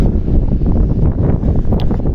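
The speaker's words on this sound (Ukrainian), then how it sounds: "чуєте, який вітер" Steady low rumbling wind buffeting the microphone, loud and continuous with slight gusty swells, no voices.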